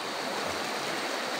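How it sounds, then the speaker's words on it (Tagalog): River water rushing steadily past a hot spring resort in Irosin, Sorsogon, a continuous broadband wash with no pauses, close and fairly even in level throughout. "Bali ito naman yung ilog niya."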